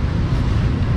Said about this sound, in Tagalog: Kasi may hangin yan.